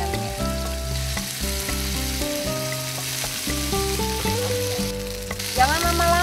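Chicken drops into a hot pan and fries with a loud, steady sizzle. Music plays prominently throughout and partly covers the frying.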